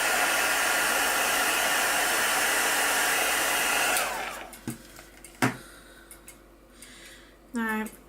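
A hair dryer blows steadily and loudly at close range, drying a brooch during a patina paste mirror craft project, then cuts off, leaving a few knocks and handling noises.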